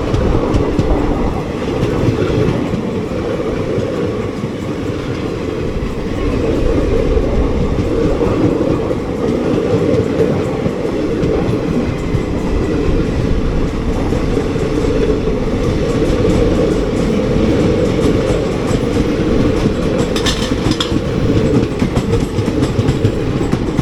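A Vijayawada-Hubli Amaravati Express passenger train runs steadily with continuous loud rumbling and wheel clatter on the rails, heard from on board throughout with no talk.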